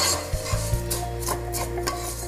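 A utensil scrapes and rubs steadily around a cooking pot as food is stirred to brown, a close, continuous gritty rasp with small knocks, no voices.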